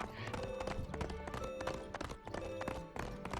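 Bullseye the horse gallops in the Toy Story 3 video game, a rapid clip-clop of hooves running steadily under busy game music and effects.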